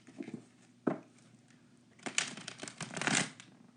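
Tarot cards shuffled by hand in bursts of soft riffling and slapping, a short snap near the start and a longer flurry of shuffling toward the end, close and fairly loud with no talk.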